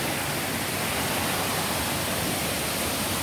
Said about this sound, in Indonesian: Bagaimana menurut Anda air terjun ini?